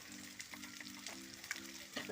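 Chopped shallots frying in oil in a clay pot for chicken thoran give a soft, continuous sizzle and crackle up close, with a quiet voice talking over it.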